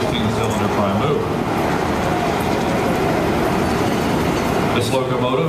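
Lackawanna Railroad F3 diesel locomotive no. 664, a 1948 EMD 1,500-horsepower unit with a 567B 16-cylinder prime mover, rumbling steadily and loudly on a turntable, a continuous low drone with no pauses throughout.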